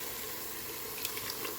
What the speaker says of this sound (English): So just rinsed out my blender cup and about 1/4 of a cup of water.